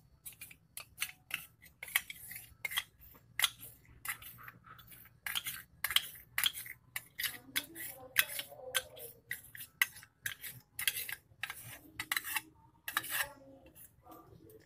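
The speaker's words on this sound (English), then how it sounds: "And we'll stir it well." A utensil stirring a glycerin and soap solution in water, giving quick, light clinks and ticks against a container in a steady, close, uneven rhythm, with no voices.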